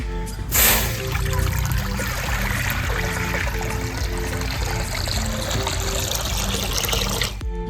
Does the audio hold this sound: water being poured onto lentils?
yes